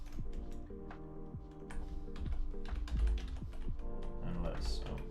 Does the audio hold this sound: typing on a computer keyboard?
yes